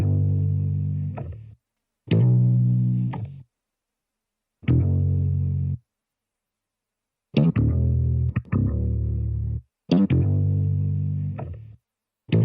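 A distorted bass sample for a vintage emotional R&B beat plays in several loud, warm phrases of plucked notes, each phrase separated by full silence, with no voices present.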